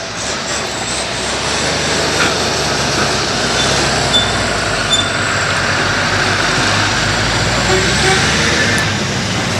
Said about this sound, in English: There's a bloody tractor coming now